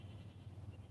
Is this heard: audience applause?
no